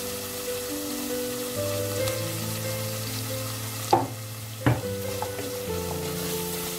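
Grated carrot going into a hot pan sizzles steadily, with two sharp stirring or tossing clatters partway through over a continuous frying hiss and a low background hum.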